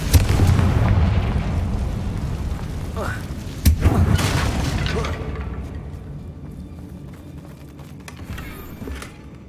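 A Confringo spell in the Hogwarts Legacy video game sets off a deep, booming explosion with a second blast partway through, then a long rumbling fade under a faint voice.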